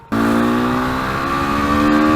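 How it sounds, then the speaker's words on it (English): A motorcycle engine pulls hard under throttle on an open road near Hyderabad, a loud, steady rising drone that starts abruptly and holds close and strong throughout. "I just love the throttle response on this motorcycle."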